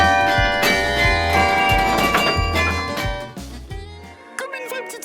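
Carillon bells in Bergues ring out loudly with rich, sustained tones overlapping in a dense wash, fading toward the end as a voice briefly speaks.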